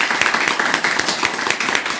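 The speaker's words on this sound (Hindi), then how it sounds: "एक जोरदार तालियों के साथ आप अपना भी स्वागत करें" Audience clapping at a Hindi spiritual festival gathering, a dense, steady wash of many hands applauding throughout, fairly loud and without voices over it.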